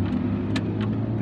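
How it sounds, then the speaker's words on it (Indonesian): A manual car's engine runs as it is started, a steady close low rumble with faint mechanical noise throughout a short moment, loud and without talk. "sekarang kita starter dulu tuh"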